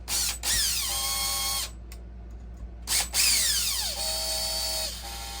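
A power tool runs nuts down onto a work truck axle during a rebuild with lowering blocks, in two close, loud whirring bursts whose pitch rises and falls, separated by a short pause.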